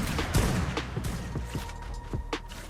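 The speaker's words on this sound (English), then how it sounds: "Shoot a rocket launcher out." Rocket launcher blasts in the survival game Ark during a PvP fight, a rapid series of sharp booming bursts with low rumbling impacts across the clip, loud and dense like a volley.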